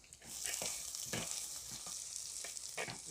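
Curry leaves, garlic and ginger fry in hot oil in a pan for a Kerala sardine curry, giving a steady close sizzle with brief stirring scrapes throughout, and no voices over it.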